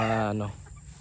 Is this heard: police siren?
no